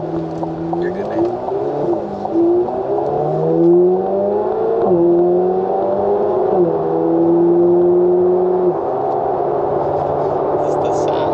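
Corvette Z06 engine while driving on the road, a loud, steady exhaust drone that rises in pitch through gear changes, running under conversation from people inside the car.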